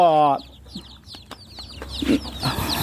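Newborn chicks in a brooding pen give sharp, high repeated peeps scattered across the scene, with a brief loud chirp at the start and some soft rustling and background noise.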